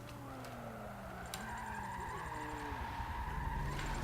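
A car drifting in Forza Motorsport 7, its engine droning steadily while tires squeal in long, wavering tones that rise and fall through the slide, fairly quiet overall and free of speech.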